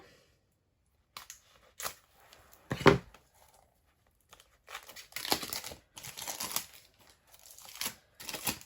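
Volume 2 of the book Bestiaire being unwrapped from its packaging: close, intermittent crinkling and tearing of plastic wrap in short bursts, with one sharp crackle and quiet pauses between, no talking.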